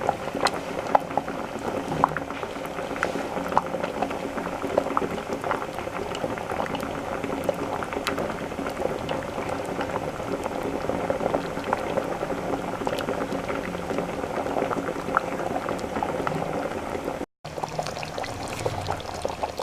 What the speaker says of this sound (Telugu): ఇలా చింతపండు పులుసుని వేసిన తర్వాత లో ఫ్లేమ్లో 10 నిమిషాలు